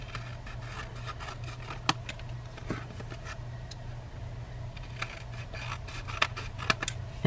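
Paper being cut with scissors while crafting hexagon pieces for a stamped paper basket: several crisp, close snips at irregular intervals over a low steady hum, with no talking.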